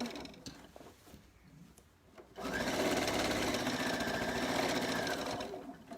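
A sewing machine stitches a children's t-shirt dress, starting after a few quiet rustles and handling sounds, then running in a loud, steady, buzzing hum for several seconds before easing off.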